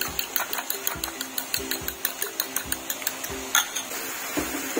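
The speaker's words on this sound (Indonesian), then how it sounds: "kocok telurnya" Eggs are whisked in a bowl for a simple vegetable scramble, making a fast, steady train of light clicking beats, close and fairly loud, with no talk over it.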